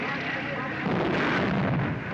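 A propeller airplane deliberately crashes into a house, a loud, dense rumbling burst of impact with crashing and splintering wood that rolls on without a break.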